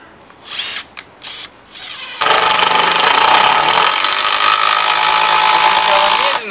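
Makita cordless drill driving a screw: a few short whirring bursts at first, then a sustained loud, steady high-pitched drilling run that keeps going to the end.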